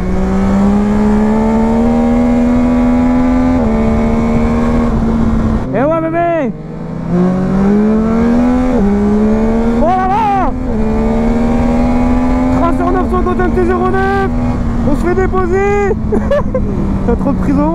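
A Yamaha Tracer 900 GT motorcycle engine drones loudly and steadily on the road, its pitch climbing and dropping with throttle changes, with wind rush throughout and occasional voices over it.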